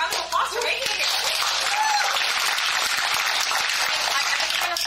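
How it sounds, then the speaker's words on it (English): A seminar audience applauding in a packed regional event hall, dense steady clapping throughout with some voices and light laughter mixed in. "So give yourself a round of applause for making it here."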